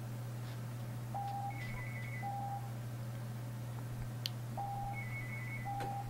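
A phone rings in repeated two-tone electronic bursts during a taped show, moderately loud over a constant low hum, with pauses between rings.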